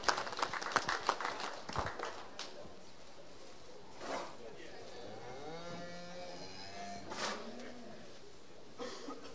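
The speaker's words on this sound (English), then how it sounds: "Please join me in a round of applause for Barry for being here and judging the show" An audience at a winter farm cattle show claps for the judge: a burst of close, dense applause for about two seconds, then it thins and fades as quieter voices and drawn-out tonal sounds carry on behind it.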